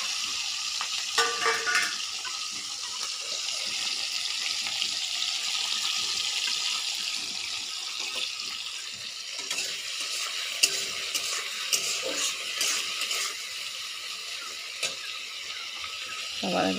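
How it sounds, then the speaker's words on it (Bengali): Prawns fry in a pan of hot oil with a continuous sizzle and crackle, plus scattered stirring clatters and brief sharper pops in the second half. "সবার আগে একটু মাছটা ভালো করে ভেজে নেব।"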